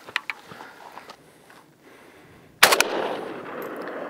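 A 7.62x39 full metal jacket round fired from an AK-47 at level 3 body armor cracks out as one sharp, loud shot, and its bright ringing decay carries on afterward. Softer handling noises come before it.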